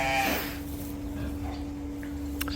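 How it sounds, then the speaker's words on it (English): Sheep bleating on a working farm during chores, one short call near the start over a steady background hum, followed by quieter ambient farm noise. "We still have a few more sheep that need to lamb."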